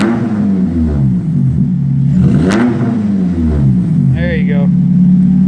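Polaris Slingshot engine revving hard through an aftermarket dual exhaust, rising and falling in a couple of loud close throttle blips as a person speaks briefly at the end.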